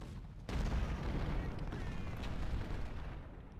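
Rumbling battlefield fire from muskets and artillery in the Civil War strategy game Ultimate General: Civil War, breaking in suddenly as a dense, continuous roar of overlapping shots and booms.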